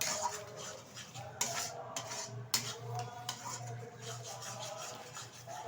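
A spice mixture with a little yogurt is sautéed in a pot for mutton curry, with a spoon scraping and clinking against the metal in irregular strokes over a faint, low sizzle and a steady background hum.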